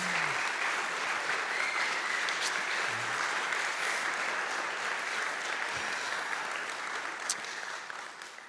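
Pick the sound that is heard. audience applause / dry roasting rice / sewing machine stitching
audience applause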